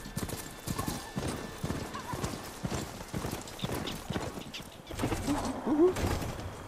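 Robotic horse mount in Horizon Forbidden West: rhythmic hoofbeats clatter continuously at moderate distance, with a neigh near the end amid game ambience.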